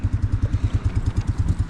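The engine of a 1948 Cub tractor runs close by with a fast, regular low chugging that pulses evenly throughout and has no voices over it.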